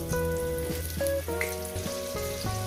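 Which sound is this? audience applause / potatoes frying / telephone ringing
potatoes frying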